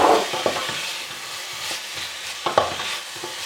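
Lardons and sliced onion frying in a pan without added fat, a soft sizzle under repeated spatula stirs and scrapes, with a few sharper knocks.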